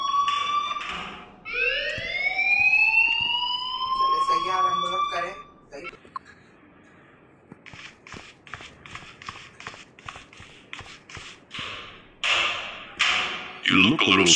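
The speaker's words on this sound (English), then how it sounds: "please turn off that alarm since that's your job" Fire alarm ringing in the video game Life Is Strange: loud rising, whooping electronic tones sweep upward over the first few seconds, then give way to scattered thuds and taps while voices talk.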